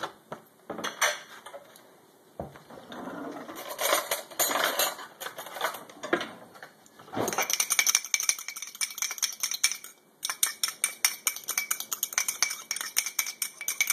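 Egg wash with milk or cream whisked in a bowl for a blueberry pie: rapid, rhythmic metallic clinking of a utensil against the bowl, close and bright, in bursts with brief pauses.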